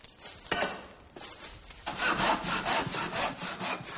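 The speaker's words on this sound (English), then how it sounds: "I've been roped into sawing wood to make charcoal for the gunpowder." A handsaw cuts back and forth through wood being cut up for charcoal, rough rasping strokes close by that grow quicker and more insistent in the second half, with no voices.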